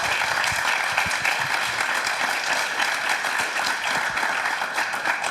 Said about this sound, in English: can we just give a round of applause for our panelists?